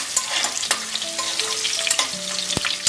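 Whole spices such as cinnamon, cloves, bay leaf, mace, star anise and marathi moggu crackle and sizzle in hot oil with green chillies, with scattered pops and spoon scrapes over a steady fry, close and clear with no talk.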